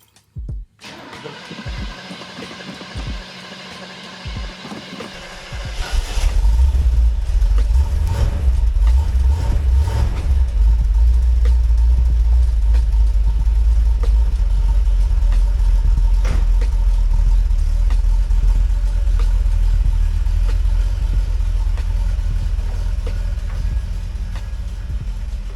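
An old truck in a small garage workshop cranks in a few clicking turns, then fires up and settles into a loud, steady rumbling idle that continues for the rest of the clip.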